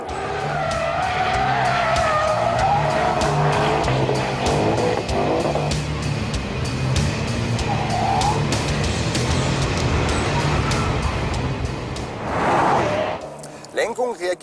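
Jaguar XKR on a racetrack with its rear tires skidding and smoking, a long continuous loud screech under the engine roar, swelling again near the end before breaking off.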